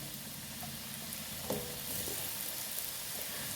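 Potato french fries fry in hot oil in a kadai, giving a steady, close sizzle with soft bubbling and a small pop as more pieces go in.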